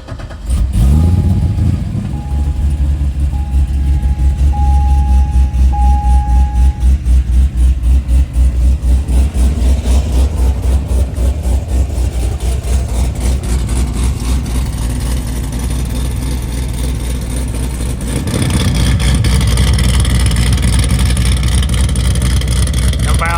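A C6 Corvette with valved exhaust cranks and fires up, then settles into a loud, lumpy pulsing idle that swells again near the end; a voice talks briefly partway through.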